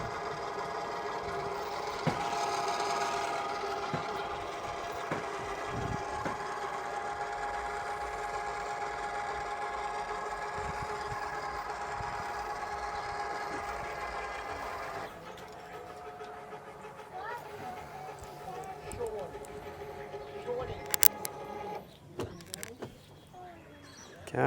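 Electric motor of a caravan auto levelling system straining to lift the front of a caravan, a steady whining hum for about fifteen seconds that changes pitch and then stops amid clicks and faint handling noises.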